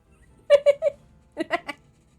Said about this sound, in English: Geraldson III goes meow.